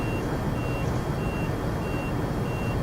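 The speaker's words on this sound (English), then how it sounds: "Oh, that alarm went off there." Cab alarm in a Class 395 train simulator game: a steady high electronic beep repeating in regular pulses over a constant low rumble of the running train.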